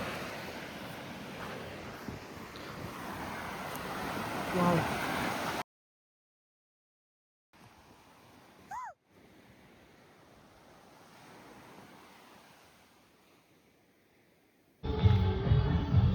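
Ocean surf on a beach near Mangalore, a rushing wash of breaking waves and wind in separate stretches broken by cuts to silence, with a quieter section between them and a loud surge of surf at the end.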